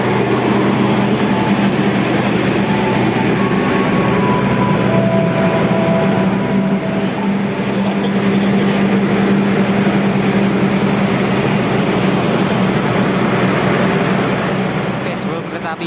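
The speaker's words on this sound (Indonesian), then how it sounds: "ini ada kereta api bandara Argo Bandara yang mau melintas langsung teman-teman di stasiun Wates" Argo Bandara airport train rolling through Wates station, a loud sustained rumble and drone from the passing rail cars, steady for the full stretch with faint tonal squeals on top.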